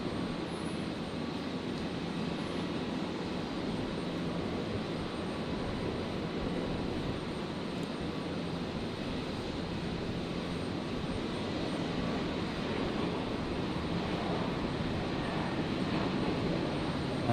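An Airbus A320neo jet airliner at Brisbane Airport gives a steady, even roar that holds without a break, with no voices over it.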